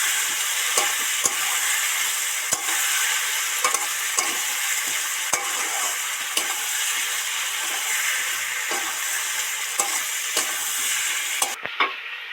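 Bitter gourd and spices sauté in oil in a pan, a continuous close sizzle broken by regular spatula scrapes and knocks as the mixture is stirred, with no voices.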